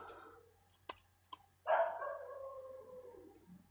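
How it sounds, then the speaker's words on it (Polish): Two short sharp barks, then a longer bark that trails off into a drawn-out whine, heard at a middle distance with no talking. "Jak coś słychać psy, to przepraszam"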